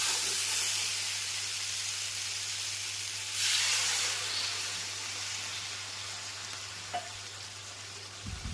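Water poured into a pan of frying potol and potato sets off a steady hiss and sizzle, swelling briefly into a louder burst of steam before settling back to a quieter simmer, with a low hum running underneath.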